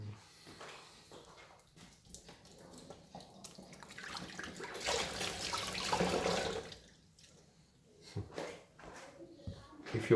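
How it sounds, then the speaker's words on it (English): Tap water runs over two tomatoes being washed at a kitchen sink: a soft gush that builds into a steady, louder flow in the middle, then drops away, with a voice talking quietly at times. "I'm using tap water"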